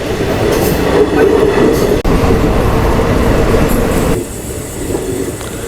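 Mayiladuthurai to Karaikal passenger train running via Peralam and Thirunallaru, a steady loud rumble of wheels and carriages heard from inside, with a faint squeal and a sudden drop in noise near the end.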